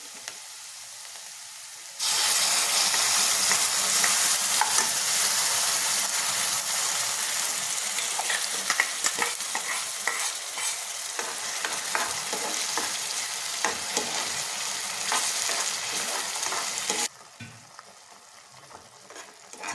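Ground masala paste hits the hot oil with a sudden loud sizzle and spatter. The fierce frying holds steady at close range for about fifteen seconds, with stirring scrapes, and then cuts off into quiet.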